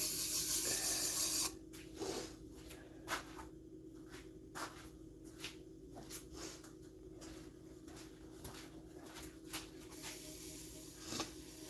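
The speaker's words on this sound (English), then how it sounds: "just work in some liquid wax, nice and easy, with some 600 grit, sort of meshy style sandpaper" Mesh-style 600-grit sandpaper with liquid wax rubs against a spinning chestnut piece on a wood lathe. After a brief louder hiss at the start, it settles into quiet, rhythmic rasping strokes over the low hum of the lathe.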